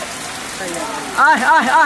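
Steady rain pours down throughout, a broad even hiss that stays loud the whole time, with a voice calling out over it near the end.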